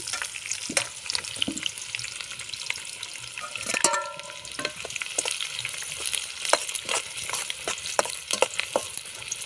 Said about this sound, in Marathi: तेलामध्ये शेंगदाणे तळून घेतले त्यामध्ये कांदे टाकायचे